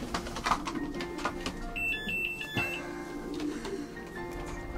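Young racing pigeons coo softly and repeatedly in a loft, low throaty calls against a busy background with occasional faint chirps.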